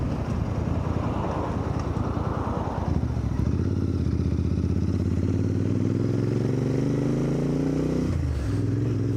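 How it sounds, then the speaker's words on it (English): A Royal Enfield Interceptor 650 motorcycle ridden on countryside roads, its engine close and loud with rising revs through the gears, a brief dip and pickup near the end, and wind buffeting the microphone throughout. "I find it to be so easy to ride this."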